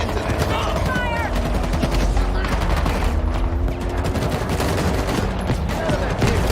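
Video game gunfire crackles in dense, continuous rapid bursts, loud and close throughout, with voices mixed in beneath the shooting.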